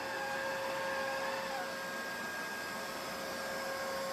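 A Neato D85 robot vacuum works across a low Berber carpet, giving off a steady, continuous whine with a fixed high tone and a brushy hiss that stays even in level throughout.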